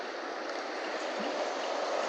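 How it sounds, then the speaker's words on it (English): Water flowing steadily in a stream near an old canal lock, a continuous broadband rush heard up close and alone, with no talk over it. "here the water's flowing"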